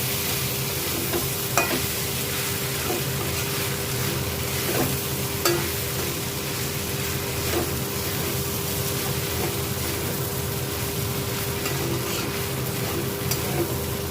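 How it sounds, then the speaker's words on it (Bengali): Soaked sago stirred and sautéed in a hot pan for jhal sabu, a steady close sizzle and frying hiss with scattered scraping stir strokes and light clinks throughout, no talking. "এবার এটাকে আমি একটু কষিয়ে নেব।"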